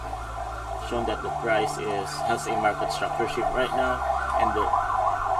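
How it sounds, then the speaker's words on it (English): An ambulance siren passes by with a steady wailing tone, heard under continuous close speech. "ambulance is passing by"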